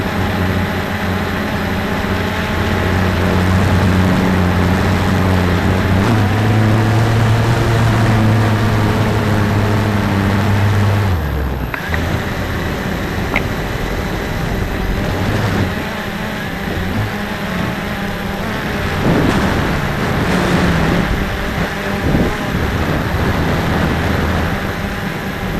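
A Cheerson CX20 quadcopter flies in gusty wind, its motors giving a steady, close droning hum that wavers in pitch as the craft fights the gusts, with rushing wind noise throughout and no talking.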